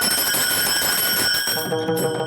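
Bright metallic ringing from taal hand cymbals keeps a steady beat in a devotional hymn to Ganpati. The shimmering tone holds, then thins slightly near the end.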